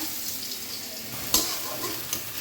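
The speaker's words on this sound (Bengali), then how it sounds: "আদা রসুন বাটা পেঁয়াজ বাটা দারচিনি এলাচ এগুলোকে তেলে একটু সুন্দর করে ভেজে নেব" Ginger-garlic paste, onion paste, cinnamon and cardamom fry in hot oil with a steady, close sizzle, broken by a sharp pop or stir clatter around the middle and another smaller one near the end.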